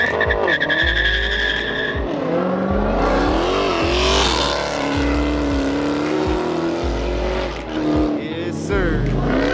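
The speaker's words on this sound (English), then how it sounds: "Gotta get the burn on it." A Mopar car doing a burnout, its engine revving hard in repeated rising pulses while the tires squeal loudly and continuously close by.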